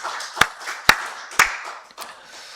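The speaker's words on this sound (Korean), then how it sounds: "우리 박수를 하나님께 영광 드리겠습니다" A church congregation claps in worship at a Korean Sunday service, four sharp, evenly spaced claps with a soft murmur between them.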